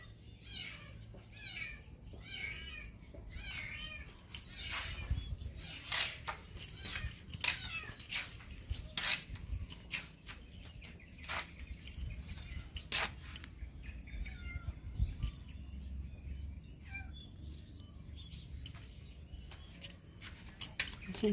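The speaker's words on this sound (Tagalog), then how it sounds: "May pusa." A cat meows repeatedly outdoors, with short, fairly faint calls clustered early and then scattered amid clicks and light background noise.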